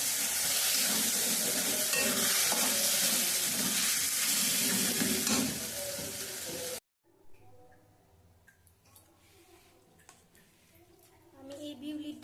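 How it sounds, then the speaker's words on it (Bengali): Peanut paste frying and being stirred in a pan for a chutney, loud sizzling and scraping for several seconds, then an abrupt cut to quieter, sparse clinks and faint kitchen sounds. "এবার আমি পেস্ট করা বাদামটা দিয়ে দেব। বাদামটা দিয়ে এভাবে নাড়তে থাকবে।"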